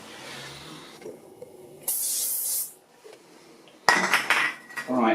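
An aerosol spray hisses in two short, sharp bursts during a bathroom toilet-unblocking repair, with faint handling clatter between them.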